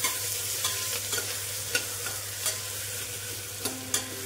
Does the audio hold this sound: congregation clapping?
no